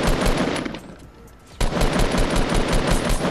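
Automatic gunfire in the Fortnite Battle Royale video game, a dense burst of rapid shots that pauses briefly, then resumes loud and continuous with no talking over it.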